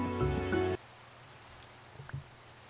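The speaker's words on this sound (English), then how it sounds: "Oh, it's raining. It's raining." Rain in a video game patters softly and steadily after a short musical tone cuts off, faint and continuous, with a couple of small knocks near the end and no voices.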